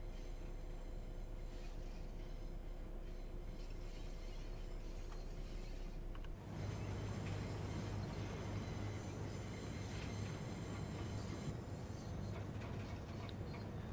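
A railhead treatment train running in Train Sim World 3, a faint, steady rumble of engine and rolling wheels that swells into a louder, rougher roar partway through.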